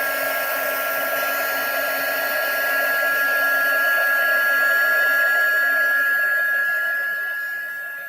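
Heat gun blowing steadily to melt embossing powder on a card background, a continuous close whooshing hum with a fixed high whine, loud and unbroken, swelling slightly midway before easing off.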